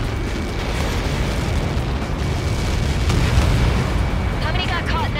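A missile impact explosion in the jet combat game Ace Combat 7, a sustained heavy roaring blast rumble that swells slightly midway, with radio chatter over it.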